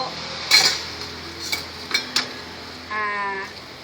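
A spoon stirs sugar syrup in a pot while making pandan-scented syrup, giving a few sharp metallic clinks and scrapes, close and fairly loud, in a quiet kitchen.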